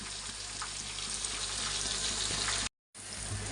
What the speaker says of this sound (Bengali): এখন পটলগুলো লাল লাল করে ভাজা হবে